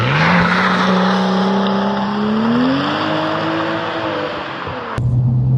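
A track-prepared BMW M135i clubsport hot hatch driven hard on a public road, its engine droning loudly and rising in pitch under acceleration, then cutting off abruptly before dropping to a lower steady note.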